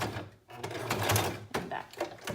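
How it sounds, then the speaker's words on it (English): A sewing machine stitches a seam on a homemade western shirt, running in a couple of steady bursts with short pauses between them, close and moderately loud. "So now you're going to sew it shut."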